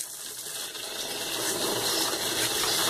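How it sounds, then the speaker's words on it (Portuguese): Water runs steadily while a bowl is rinsed out after checking eggs, a close, continuous hiss and gush with splashing texture for a few seconds and no talking. "Agora eu só passo uma água nessa vasilha"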